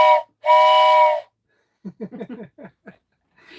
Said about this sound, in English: my little train whistle